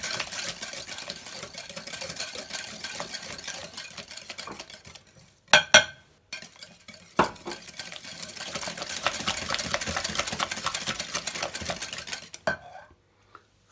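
Sugar is mixed into Moroccan fakas dough in a bowl, a close, rapid, rhythmic whisking and scraping that pauses for a couple of sharp clinks before resuming steadily and stopping near the end.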